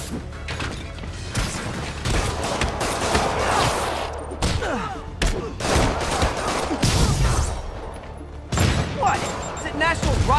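Rockets launch and explode during a fight in Marvel's Spider-Man, with repeated loud bangs and whooshes over a continuous roar of combat noise and occasional game dialogue.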